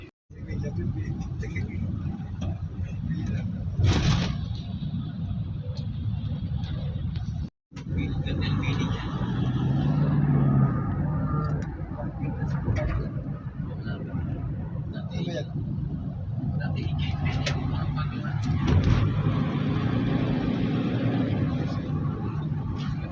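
Car traffic on a rainy day in Quezon City, heard from inside a moving vehicle as a steady low engine and road rumble, with people talking over it throughout.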